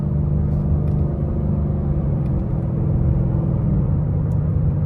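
A Ford S550 Mustang engine runs steadily while driving, a loud, close, deep rumbling drone with a constant low throb and no noticeable revving.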